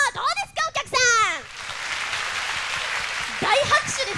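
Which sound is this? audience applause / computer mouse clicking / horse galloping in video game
audience applause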